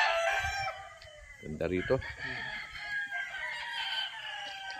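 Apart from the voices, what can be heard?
roosters crowing on a gamecock farm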